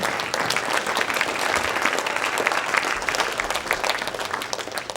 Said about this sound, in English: Massive thanks and a round of applause to all of them.